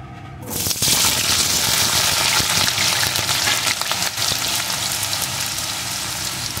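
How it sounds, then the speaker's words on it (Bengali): Cut potato pieces with salt hit hot oil and erupt into a loud, dense, continuous sizzle that stays strong and close throughout after a brief quiet opening. "এখন আলুগুলোকে একদম লাল লাল করে ভেজে নেব।"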